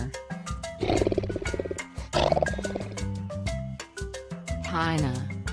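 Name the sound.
tiger roaring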